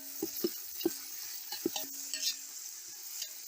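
Tomatoes sautéing in a pan with onion and green chili for a village-style rabbit curry: a soft steady sizzle with several sharp spoon taps and scrapes against the pan, close by, and no speech.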